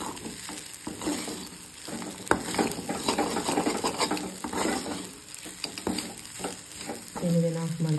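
Mango chitranna, a sour raw-mango rice dish, is stirred in a hot pan, with steady scraping and tossing over a soft sizzle and occasional utensil clinks against the metal, close and continuous with no talk.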